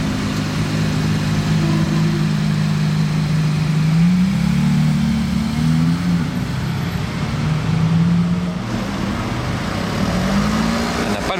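A Ferrari engine revs on a Monaco street amid traffic, rising and falling in pitch over a steady loud roar, close by and sustained throughout.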